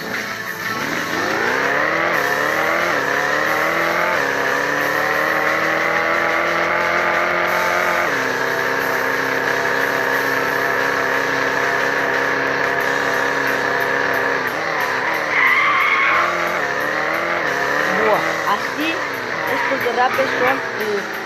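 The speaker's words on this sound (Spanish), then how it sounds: "Ahora vamos a ver los derrapes." A car with competition brakes skids and drifts repeatedly, its engine revving hard as tires squeal in long sweeping waves, loud and close, with a person talking over it.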